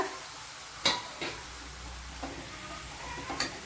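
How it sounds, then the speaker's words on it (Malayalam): Cooked tapioca being tipped into a pan of masala and stirred, with a few sharp scraping and clattering spoon strikes over a faint, quiet sizzle. "ഇനി ഇതിലേക്ക് നമ്മുടെ വെന്ത കപ്പ അങ്ങോട്ട് ഇട്ട് കൊടുക്കുക"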